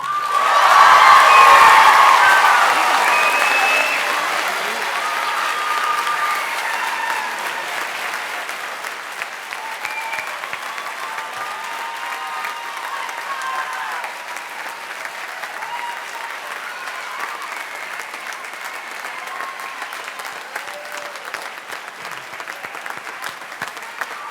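Graduation audience at a school achievement day breaks into loud applause and cheering, peaking in the first few seconds and then settling into sustained clapping with scattered whoops for over twenty seconds.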